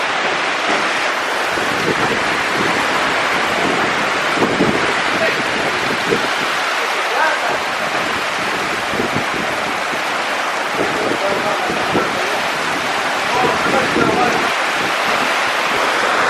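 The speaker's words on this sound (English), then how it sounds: "this is a proper rain in the rainforest" Heavy rain pours down in the Peruvian rainforest of Pacaya Samiria, a dense, continuous roar of water that stays loud and steady throughout with no letup.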